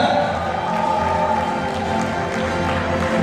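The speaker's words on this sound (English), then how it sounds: "A big round of applause, South Africa." Crowd at the MIG 2019 pageant coronation applauding and cheering, a steady dense wash of clapping and voices filling the whole stretch at even loudness.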